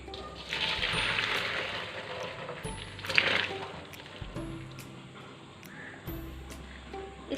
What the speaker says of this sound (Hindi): इसका पानी जो है वो मैं स्ट्रेनर से मैं छान लूँगी